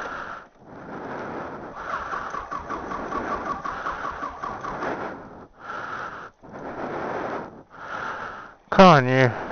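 A car engine cranks over in several bursts after the ignition is switched on, a person talking between the attempts, then a sharper sound at the end.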